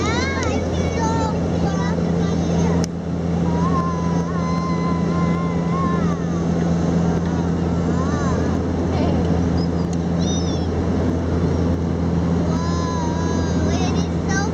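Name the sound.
small plane flying, bumpy ride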